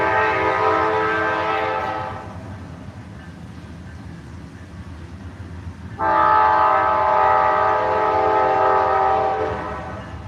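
Loud, sustained train horn blasts, one long then another after a pause, over the steady rumble of a train passing close by.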